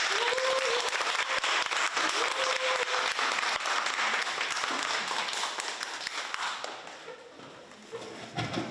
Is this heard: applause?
yes